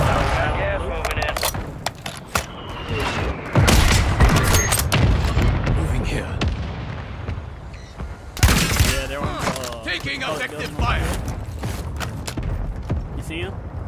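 In a video game battle, mortar strikes land as heavy booms amid bursts of gunfire. The explosions hit in a few loud clusters while voices call out over the fighting.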